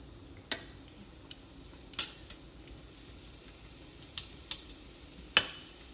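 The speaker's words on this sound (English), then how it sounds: "I'm just gonna cook the cauliflower until it's slightly soft" Chopped cauliflower sizzles softly in a pan for cauliflower fried rice, with a steady low frying hiss and several sharp scrapes and clinks of a utensil stirring it, close and alone.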